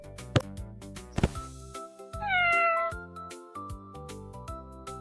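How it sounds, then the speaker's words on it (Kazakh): A cartoon cat gives a single clear meow midway through a children's educational animation, set over gentle plinking background music with a couple of sharp percussive hits. "Бұл мысық."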